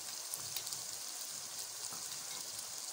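Chicken karela masala fries in a pan with a quiet, even sizzle and faint crackles throughout, no talking.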